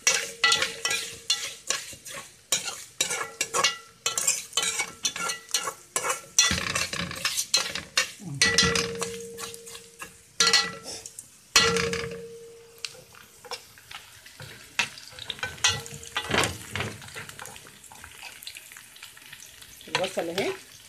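Onions frying in a pan for Egyptian koshari, a crackling sizzle broken by frequent loud stirring scrapes and utensil knocks in an uneven rhythm.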